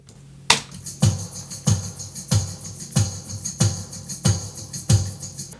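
Percussion pattern with a shaker and tambourine panned left and right, hitting in a steady rhythm, bright jingly strikes roughly twice per second, playing alone.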